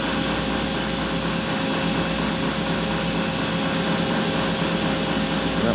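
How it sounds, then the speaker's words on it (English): Steady, loud whirring hum of a CNC tool and cutter grinder grinding the edge relief on a carbide drill, a continuous broadband drone with no talking. "this is grinding the cutting edge relief"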